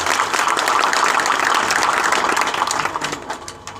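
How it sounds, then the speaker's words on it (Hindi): An audience at a Muslim minority community education address in Maharashtra breaks into loud, sustained applause, which stays dense and steady and then tapers off near the end. "मैं चाहूँगा कि एक बार ज़ोरदार उनके लिए तालियां ज़रूर हो जाए"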